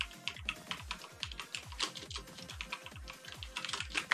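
Fast computer keyboard typing during a rhythm aim-training game, a steady stream of close, crisp key clacks with repeated bursts and no voices.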